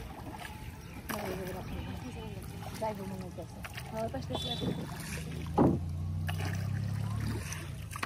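A rowboat moves through shallow water, with soft paddle splashes and trickling drips under two people talking, plus a louder splash near the middle and a gentle wash of water toward the end.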